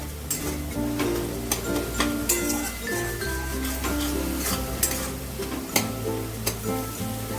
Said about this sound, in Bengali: দেখো দু মিনিটের মতন আমি ভালো করে একটু কষিয়ে নিলাম